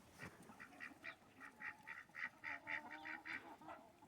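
A group of ducks quacking in a quick, steady series of short calls, somewhat distant and soft, with no one talking.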